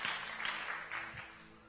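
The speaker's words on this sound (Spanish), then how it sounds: "Alguien que lo crea, aplauda a Dios." A church congregation claps in a brief, fairly faint burst of applause that fades out within a couple of seconds.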